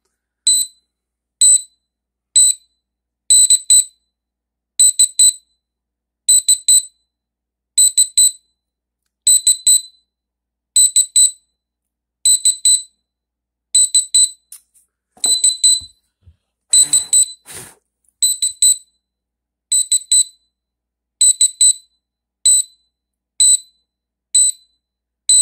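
A digital natural gas leak detector alarm sounds in loud, regular high-pitched beep bursts, repeating steadily throughout with a brief burst of low handling noise in the middle.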